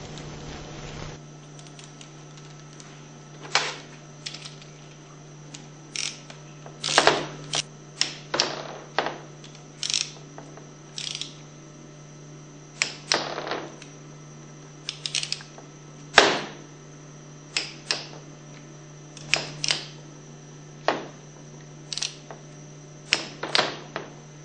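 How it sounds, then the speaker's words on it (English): A torque wrench tightens the Allen bolts on a Hypro 2400 Series Powerline Plus plunger pump to 170 inch-pounds, producing sharp isolated clicks and snaps at irregular intervals over a steady background hum. "Reinstall the Allen bolts. Torque to 170 inch-pounds."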